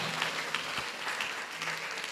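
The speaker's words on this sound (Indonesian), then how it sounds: "Beri tepuk tangan untuk Dila." A school talk-show audience claps for a student speaker, a quiet, steady patter of applause heard from a distance.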